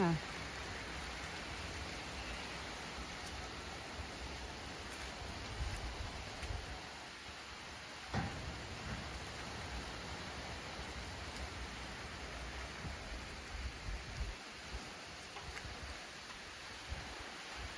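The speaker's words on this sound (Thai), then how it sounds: "ท่ามกลางฝนตก" Steady rain falls in a dense, even hiss, with no break from start to finish.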